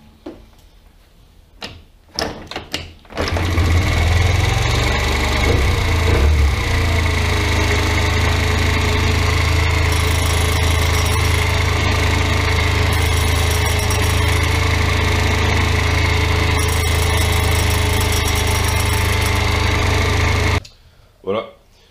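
A Kymco Agility scooter with a stuck kick-starter and a suspicious noise: a few knocking attempts, then the engine catches and runs loudly and steadily for about seventeen seconds before cutting off.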